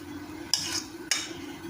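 Cooked garden rice is scraped and spread around the edges of a pot, two quick sharp scraping strokes over a low steady background hiss.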